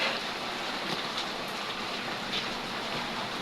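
Heavy storm rain pours down in a dense, continuous hiss that stays loud and even throughout, with no voices.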